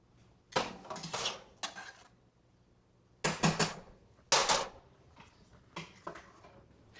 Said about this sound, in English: I'm adding the meatballs into the sauce.